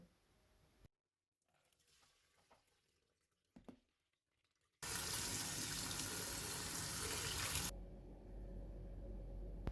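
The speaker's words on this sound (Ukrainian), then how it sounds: "відсіжуємо її через друшлак і промиваємо під проточною водою" Quiet handling noises give way to a loud, steady rush of running tap water over lentils in a colander, continuing for several seconds, then settling into a lower, fuller flow.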